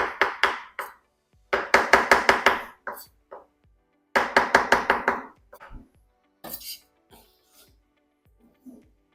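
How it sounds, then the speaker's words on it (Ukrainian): Rapid knife chops slicing mushrooms on a cutting board in quick bursts of five or six strokes, separated by pauses, with a few scattered clinks near the end. "Далі нарізаю гриби."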